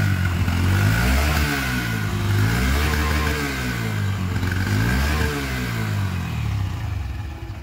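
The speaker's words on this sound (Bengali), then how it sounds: "আইডিয়ালে যখন নর্মাল ইঞ্জিন স্টার্ট থাকবে, আইডিয়ালে আমরা এই সাউন্ডটা পাচ্ছি ঠিক ইঞ্জিনের।" Honda CB Hornet 125 motorcycle, 2025 model, idling at close range: a steady low engine thrum with a pulsing, wavering beat that holds level for nearly eight seconds, no talking over it.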